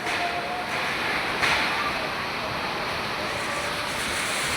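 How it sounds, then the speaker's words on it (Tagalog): Strong wind blows steadily outdoors in the rain, a loud, continuous roaring rush of air buffeting the microphone with no break throughout. "Usog kaayo ang hangin."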